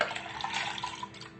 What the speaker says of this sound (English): Now we will add the dal with the water.